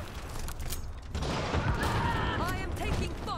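Gunfire crackles in the Dirty Bomb shooter as bursts of shots rattle close by, building into a dense fusillade, with a voice speaking over the fighting.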